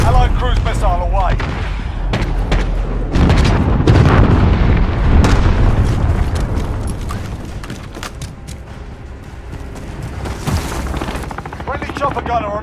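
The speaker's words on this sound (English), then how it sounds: "Allied cruise missile away." Cruise missile explosion in the video game Call of Duty: Modern Warfare: heavy booming blasts and rumbling bursts roll through dense gunfire and battle noise, loud and chaotic, with brief voice chatter.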